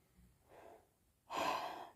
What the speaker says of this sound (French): C'est dur de me concentrer quand j'ai mon gros chameau là-bas qui ronfle